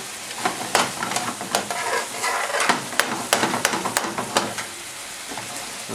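Chicken jalfrezi with tomato bubbling and sizzling in a pan, a continuous frying crackle with sharp pops and spits scattered throughout, close and fairly loud, with no talking.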